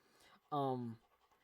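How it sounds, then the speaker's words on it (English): A short burst of quick, breathy panting from a puppy, close by, preceded by faint background noise. "if you hear panting in the background, it's just my wee puppy girl."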